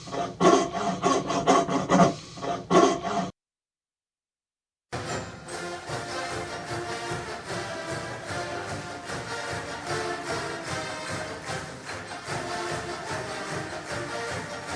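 A coping saw rasps through wood to cut it off a vintage Duncan Phyfe style dining table leg, starting with choppy strokes, then a pause of silence, then steady rhythmic sawing continuing close up.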